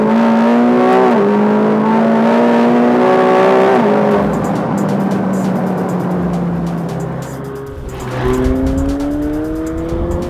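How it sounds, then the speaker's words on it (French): A 2017 McLaren 720S V8 accelerates hard and close, the engine note rising through gears with brief drops at each shift, loud and continuous with no talk over it. "Quant au V8, il évolue avec une sonorité plus travaillée, plus communicative"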